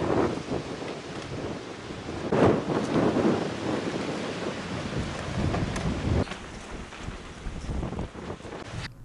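A strong lodos windstorm hits a flooded seaside, with loud gusts buffeting the microphone and waves surging and crashing in a continuous roaring wash, swelling and easing over several seconds.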